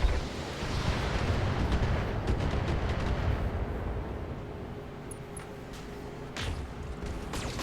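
Mech weapons firing in the Battletech video game, a loud sustained rumbling barrage of booms and blasts that slowly eases, with a few sharper cracks near the end and no voices.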